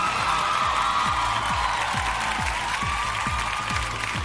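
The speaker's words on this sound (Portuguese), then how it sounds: "Uma salva de palmas para Sirley, muito simpática" A TV studio audience on a Brazilian variety show applauds steadily, a dense, continuous wash of clapping with some crowd cheering, loud and sustained throughout, with a repeating low musical thump underneath.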